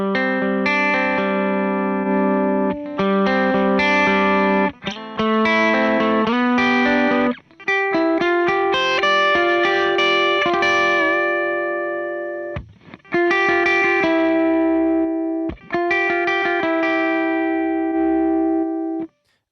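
Slide guitar through a single drive gain stage with no modulation pedal, sustained notes gliding between pitches in several phrases with short pauses between them. Loud and close, with nobody talking.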